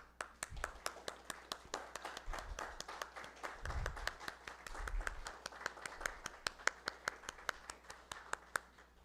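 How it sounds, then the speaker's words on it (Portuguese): Applause during a municipal council session honouring a late local man, a steady run of sharp claps from a small group in a room, moderately quiet, continuing evenly for several seconds. "Eu gostaria de pedir uma salva de palmas para o senhor João Teodoro."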